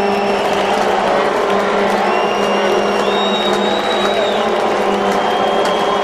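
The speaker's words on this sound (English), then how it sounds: "The crowd getting into it." An arena football crowd at a 2012 AFL game between the Arizona Rattlers and the Blaze roars continuously, loud and dense cheering with whoops and whistles rising over the sustained din.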